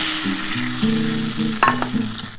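Mustard paste sizzles in a pan with tomato and green chili, giving a close, steady hissing fry. A low hum from a nearby machine runs underneath, and a brief metallic clink comes near the end.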